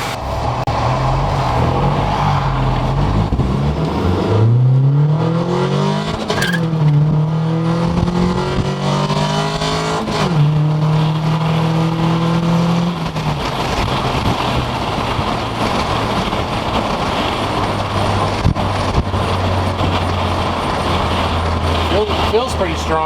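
Honda Civic EF sedan with a swapped B18B engine driving on a short cruise; the engine note climbs steadily through revs and gear changes, loud and close, with talk over it in places.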